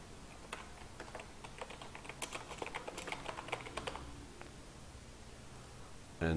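Fingers type on a computer keyboard while entering a heading into a Canva design: a run of quick, close key clicks in uneven bursts, clearest in the middle, with no talking.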